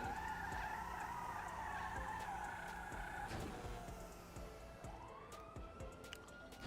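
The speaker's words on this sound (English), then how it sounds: "Even with the e-brake on, I'm still doing a burnout." Video game car doing a burnout with the e-brake on, tires screeching in a sustained squeal over a revving engine, the pitch shifting and dropping midway before rising again.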